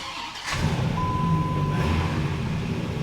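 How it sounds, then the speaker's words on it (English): A truck engine cranks from a push-button start and catches, settling into a steady low rumble that continues to the end. "I hit the red engine start button"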